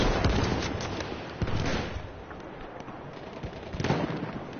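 Scout sniper rifle fire in Battlefield 1, heavy booming reports with rumbling echoes over dense, continuous battlefield noise and distant gunfire.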